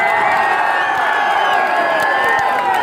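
A large crowd roars and cheers at an ADMK political rally in Alangulam. The dense, loud wall of voices and whoops sustains without a break.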